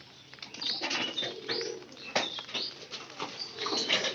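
White pigeons in a loft with straw bedding give soft, overlapping coos, mixed with light rustling and occasional wing flutters, close by and fairly quiet.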